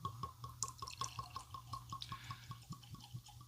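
Whiskey, opened from a bottle with a synthetic cork, pours into a glass with a faint, rapid glugging and dripping rhythm, quiet and close, over a low steady hum.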